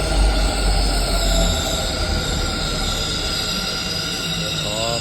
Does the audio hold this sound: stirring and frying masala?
no